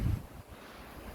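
Strong wind gusting hard against the microphone, a loud rumbling buffet at the start that settles into a steady roar over its brief length, with no voices.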